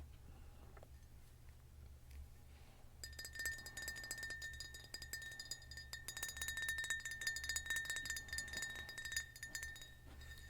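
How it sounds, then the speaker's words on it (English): A glass bottle is tapped, giving bright, clear ringing tones that start after a few seconds and repeat in quick, sustained chimes, close and gentle over a low steady hum. "Makes a beautiful ringing noise."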